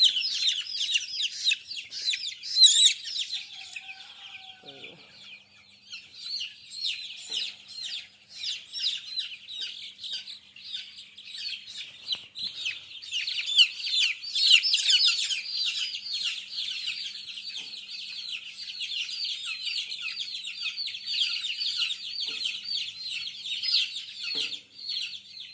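Twelve-day-old chicks in a batch cheeping and peeping continuously at close range, a dense high-pitched chorus with occasional soft clucks, no talking.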